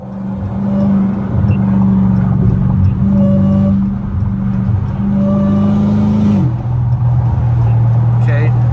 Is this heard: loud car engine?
yes